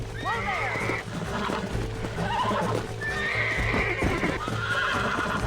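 A wild horse in the Red Dead Redemption video game neighs and whinnies repeatedly while its hooves clop and shuffle, with game ambience underneath.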